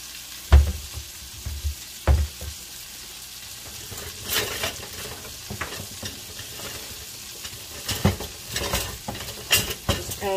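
Wild-caught striped bass fries in a pan with fresh parsley and scallions, a loud, continuous sizzle punctuated by metal clanks and scraping bursts from a utensil against the pan.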